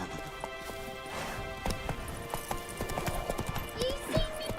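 Hooves of the horse in The Witcher 3 clip-clop in a quick, uneven rhythm with a brief neigh, while a voice talks over it.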